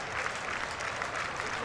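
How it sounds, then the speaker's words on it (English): Baseball fans clap in a rhythmic, repeated pattern behind the Nationals dugout, a dense crowd of hands beating steadily with general stadium murmur beneath. "Every time you hear the rhythmic clap here, you start to find the fanatic."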